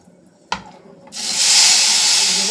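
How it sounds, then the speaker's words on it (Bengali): Marinated Bata fish hits hot oil in a kadai with a sharp clatter, and after a short pause a loud, steady broadband sizzle sets in and holds up close, with no talking. "এবার বাটা মাছগুলো কড়াতে দিয়ে দেব"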